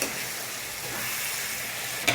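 Masala frying in oil in a pan over high heat, a steady close sizzle with stirring scrapes throughout and a brief clink near the end.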